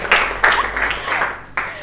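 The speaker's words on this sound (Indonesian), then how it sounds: "Oke, tepuk tangan." A classroom of students clapping hands together on the teacher's cue, a short burst of overlapping claps with a few sharper accents, fairly near and lively.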